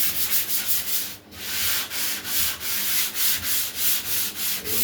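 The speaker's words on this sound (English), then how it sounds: "Trowel, hit it, scrape it off." A trowel scrapes drywall joint compound smooth on a wall in rhythmic rasping strokes, about two per second, loud and close with no talking.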